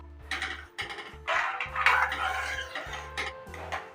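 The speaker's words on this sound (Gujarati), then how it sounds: "હવે બધી વસ્તુને સારી રીતે મિક્સ કરી લેશું" A spoon scrapes and clinks against the side of a pot of dal in quick repeated strokes, close by, with faint metallic knocks between.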